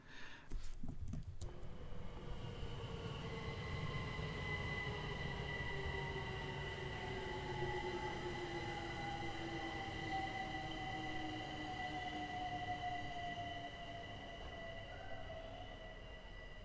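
A London Overground train rumbles steadily along the rails, with long high metallic squeals from the wheels that slowly drift in pitch, loud and close throughout.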